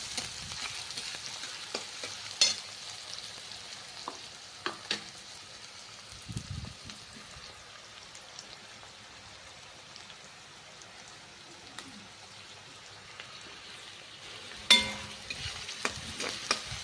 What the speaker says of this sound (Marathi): आता मी एक दोन मिनटं भाजून घेते चांगला कांदा